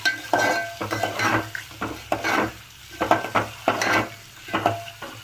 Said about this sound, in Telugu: ఒక 2 సెకండ్స్ బాగా ఫ్రై అవ్వాలి.